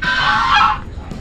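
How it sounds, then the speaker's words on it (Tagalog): A single loud, close goose honk, harsh and nasal, lasting just under a second before quieting. "Gansa."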